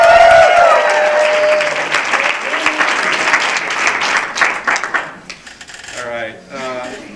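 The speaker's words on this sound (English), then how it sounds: "My daughter, Jamie, I want you to cheer for her like she's a rock star." An audience at a university speaking event applauds and cheers loudly and steadily, dense clapping with whoops over it, then thinning out toward the end as a voice begins to speak.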